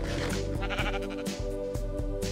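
Sheep bleating in the Minecraft video game, repeated short bleats mixed over a dense, loud soundtrack of music and game sounds.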